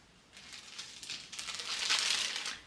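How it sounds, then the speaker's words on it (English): Paper towel crinkles and rustles as it is folded over seeds, a soft papery crumpling that builds in the middle and stays close and fairly quiet, with no talking. "fold it over, kind of trap those seeds in between the double layers of paper towel"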